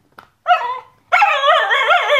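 A dog gives a short yip, then a longer whining bark-like vocalization, close and loud, while grabbing at a toy brontosaurus; no one talks over it.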